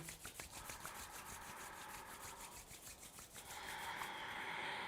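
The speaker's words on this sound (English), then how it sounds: "bring your palms together and rub them" Palms briskly rubbed together during a Kundalini yoga class, a close, steady rhythmic swishing friction that grows slightly louder and brighter toward the end, with no one talking.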